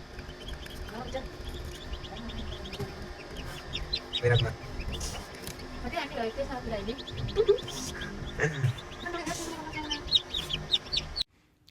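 Newly hatched chicks from an incubator cheep in quick, high peeps close by, with occasional soft hen clucks and a person talking nearby.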